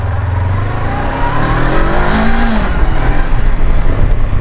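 A 2024 Honda CB 500 X motorcycle with ABS is ridden and accelerates, its engine droning loudly and steadily up through the revs while wind rushes past, with no talking.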